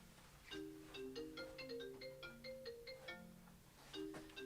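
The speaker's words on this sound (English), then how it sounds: "Phone call coming in." Phone ringtone sounding for an incoming call during a comedy radio show, a repeating electronic melody of bright chiming tones in phrases, moderately loud, with no talk over it.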